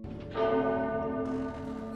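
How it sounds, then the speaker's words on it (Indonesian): A warning bell in the animated film Rango rings out loud and close, one sustained resonant metallic toll with rich overtones that decays gradually. "Sampai tak lama kemudian terdengar lonceng peringatan"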